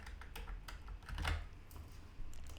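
Quick, light keystrokes on a computer keyboard, a soft irregular patter of clicks with one brief louder flurry midway, close and quiet with no talk.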